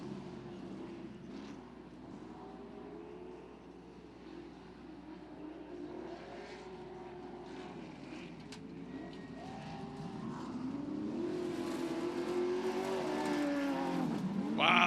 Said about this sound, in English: you can hear that horsepower in Lamarche as he tears into turn 1